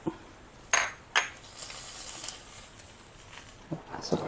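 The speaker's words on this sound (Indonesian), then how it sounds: "ini tomat, bawang merah, bawang putih sama cabenya nanti kita akan rebus" Tomatoes, shallots, garlic and chilies drop into a cooking pot with a few sharp clinks and splashes, separated by quiet handling noise; faint, close and without talk.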